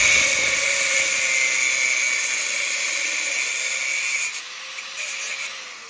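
A part is cut with a high-pitched power tool during the installation of an airbag suspension fast-response unit, a loud steady whine close by that eases off near the end.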